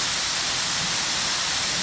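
Waterfalls in a Dallas park send up a loud, steady roar of rushing, splashing water, a constant broadband wash heard up close with no breaks and no voices.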